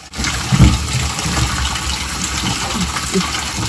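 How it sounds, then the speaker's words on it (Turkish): Muddy potatoes are rubbed and washed in warm water in a village setting. Water runs and splashes steadily at close range, with a louder slosh near the start and light rubbing sounds after it. "şu güzelce ovalaya ovalaya ılık suda yıkıyor"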